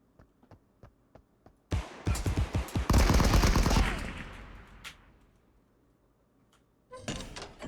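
Gunfire in a space pirate video game: a few light single shots, then a dense, loud burst of rapid automatic fire that fades into a rumbling tail, with more shots breaking out near the end.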